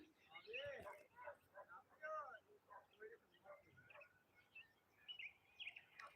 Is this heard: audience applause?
no